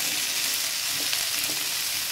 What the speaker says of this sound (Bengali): এভাবে আমি এটা ভেজে নিচ্ছি। এরকম বন্ধুরা আলুটা একটু ভেজে নিয়েছি,